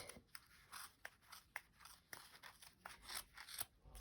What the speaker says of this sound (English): now I'm taking my scissors and I'm cutting at the other end